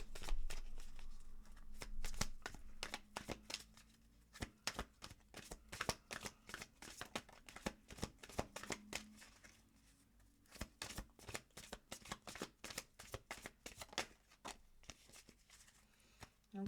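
Moonology oracle cards shuffled by hand, a long run of crisp riffling and flicking bursts in quick irregular rhythm, close and fairly quiet, with no talking.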